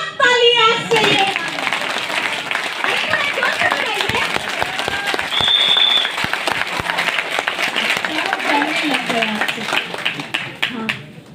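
An audience claps along through the whole stretch, steady applause with some children's voices and talk mixed in, and a brief whistle-like tone partway through.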